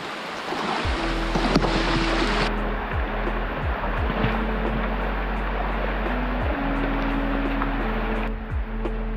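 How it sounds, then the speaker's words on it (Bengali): Rushing stream water at the Napittachora waterfall in Sitakunda on a rainy trek: a dense, continuous roar of fast-flowing current, loud and close, with low rumbling tones underneath. "দেখছেন এখানে কত বেশি ঢেউ,"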